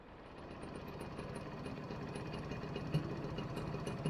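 A Yamaha TZR 80 Deltabox two-stroke motorcycle engine idles steadily close by, a continuous low rumbling putter with a faint high whine, no voices.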